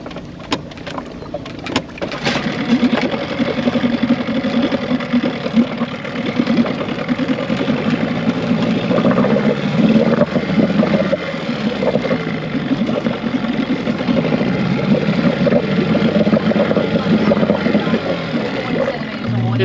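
Boat motor idling steadily throughout, a low rumbling drone with some knocking and scraping as the hull and motor touch bottom while sailing to an island; a few brief voices in the background.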